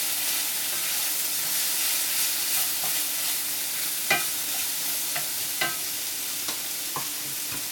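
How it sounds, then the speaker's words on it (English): Ginger goes into a frying pan of leftover dinner and sizzles steadily with a continuous hiss, broken by a few sharp crackles and spatters as it is stirred. "I'm going to put the rest of the ginger in now"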